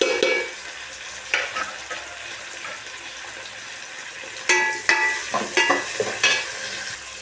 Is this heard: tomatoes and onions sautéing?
yes